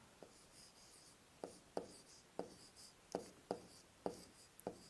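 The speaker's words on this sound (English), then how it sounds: "I will write here the first one." Chalk or marker writing the first word on a classroom board during a Sanskrit lesson, a series of about nine short, distinct scratchy strokes in an uneven rhythm, quiet and close with no talking.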